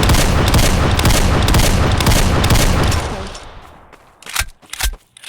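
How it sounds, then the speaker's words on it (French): Gunfire in a Roblox video game: a loud, dense barrage of rapid shots for about three seconds, then thins into a few separate sharp pistol cracks with short pauses between them. "Je vais essayer d'utiliser que mon petit pistolet."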